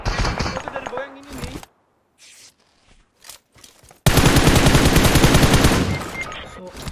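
Rapid automatic Uzi fire in the mobile battle-royale game PUBG Mobile comes in two loud sustained bursts separated by a brief quieter gap with a few isolated shots, with a voice over the start.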